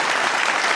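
Brief burst of audience applause on a comedy podcast, a dense steady wash of many hands clapping at close range with no voices over it.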